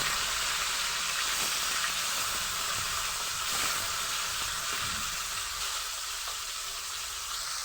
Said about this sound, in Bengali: গ্যাসের ফ্লেমটা খুব জোর না দিয়ে লো মিডিয়ামে দিয়ে আমি মাছগুলোকে ভালোভাবে এপিড ওপিড করে ভেজে নেব